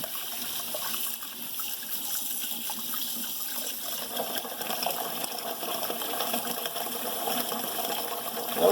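Water running steadily over soaked Unimog parts as they are rinsed, a continuous splashing hiss like a tap or hose filling a basin, close and unbroken, with no voices.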